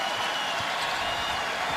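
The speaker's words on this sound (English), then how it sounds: "And hearing it from the crowd." A basketball arena crowd at a Warriors game roars in a steady, broad wash of cheering and noise during the third quarter, with no clear voices standing out.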